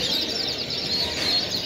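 A male topaz yellow mosaic canary at a canary-breeding contest sings in brief, high chirping notes, partly buried under a dense, noisy room ambience.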